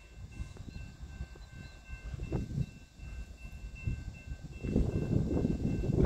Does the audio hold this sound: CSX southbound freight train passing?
yes